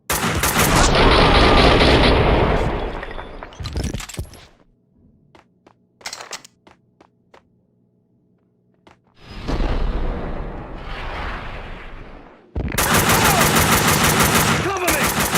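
Heavy machine gun bursts and rapid gunfire fill a firefight in the PC shooter Max Payne 2. Loud sustained volleys alternate with a quiet lull of scattered clicks and small impacts, then the shooting roars back.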